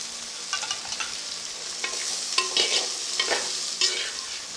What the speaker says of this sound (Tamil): இப்போ சின்ன வெங்காயம் போட்டு வதக்கிறேன்